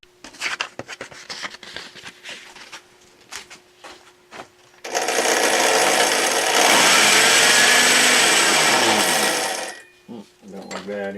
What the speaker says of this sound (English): this poor old drill press, I think, is on the way out